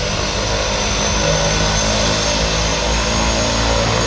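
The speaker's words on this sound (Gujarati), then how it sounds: "સી પ્લેન ચાલુ તો કર્યું હતું એક્સાઇડનું એન્જિન, પણ કોઈ જાતની ફ્લાઇટ નથી, ખાલી વોર્મઅપ હતું" A seaplane's engine warms up at a riverfront without taking off, a loud, steady propeller roar that fills the whole stretch close by, with no talk over it.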